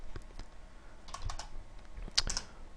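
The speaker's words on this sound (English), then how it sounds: "so my typing's a little atrocious here." Typing on a computer keyboard, with short bursts of close, crisp key clicks in an irregular rhythm and a few louder taps near the end, in a quiet room.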